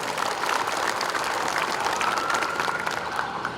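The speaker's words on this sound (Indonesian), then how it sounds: "Tepuk tangan untuk Kota Bandung." A crowd at an outdoor morning roll-call assembly of street sweepers applauds the city of Bandung, a dense, even wash of many hands clapping at once that holds steady for a few seconds with no talking.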